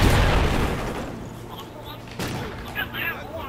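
Gunfire in the Call of Duty Ghosts video game: a loud burst of shots at the start, then softer shots further off, with voices talking in the background.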